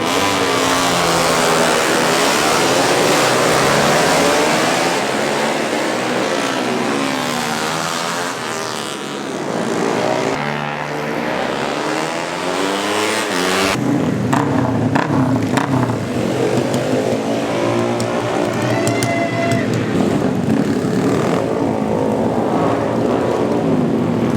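Racing motorbikes on a pace lap at a three-hour endurance race in Singapore roar past continuously, engines loud and rising and falling in pitch as the pack sweeps by nearby.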